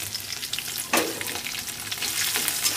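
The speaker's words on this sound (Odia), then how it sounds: "ଅଦା କୁଟା ପକାଇଦେବା।" Crushed ginger dropped into hot oil with bay leaf and cumin, a steady sizzle that flares into a sharp burst at about one second, then settles back into continuous crackling with faint stirring.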